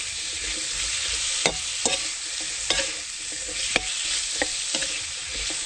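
Winter melon sautéing for ginisang kundol, a loud continuous sizzle broken by occasional sharp ladle scrapes and clinks against the pan.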